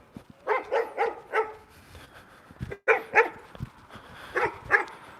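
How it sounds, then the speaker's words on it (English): A dog barks outside at night in several short bursts of two to four barks, fairly loud and close, with quiet gaps between the bursts. "You know, that dog is out tonight."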